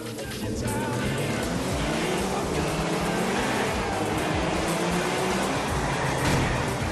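A car engine roars continuously during a street race in GTA IV, loud and close, with a steady droning rev and no pauses.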